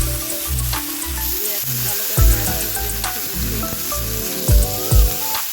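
Eggplant pieces coated in salt and turmeric fry in a pan with a continuous crackling sizzle, broken by several low thumps and scraping stirs; no voices are heard.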